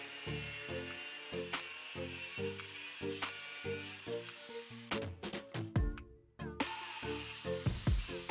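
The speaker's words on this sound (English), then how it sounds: "weld the flat stock onto the bottom of the seat bracket on both sides" Welding flat stock onto the bottom of a go-kart seat bracket gives a steady buzzing, crackling arc in repeated short bursts, broken by a few sharp knocks and metallic clanks near the end.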